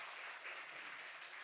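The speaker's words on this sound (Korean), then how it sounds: "기도로 마음을 합심해주는 우리 교인들 나머지 분들 우리 파이어 선교팀들 고맙다고 박수 한번 쳐줘요" Church congregation applauding together during a Sunday morning worship service, a steady, dense wash of clapping that holds evenly for the whole moment without any voices over it.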